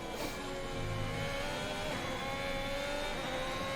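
A Haas F1 car in the F1 2022 video game runs a high, steady engine whine while braking hard into a corner, with the pitch sliding over a few seconds and no voices.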